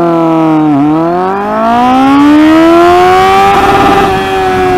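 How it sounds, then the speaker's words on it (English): A Kawasaki Z800 motorcycle pulls hard through first gear on a highway, the engine note climbing steadily in pitch to a high rev with a brief dip early on, loud and close with wind noise. "Now I'll be checking how much will the Z800 do in the first gear."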